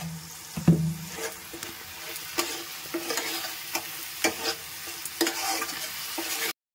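A spice paste of turmeric powder and a little sugar is stirred and sautéed in a hot pan. Soft sizzling runs under repeated scraping strokes of the spoon, close and fairly quiet, with no speech.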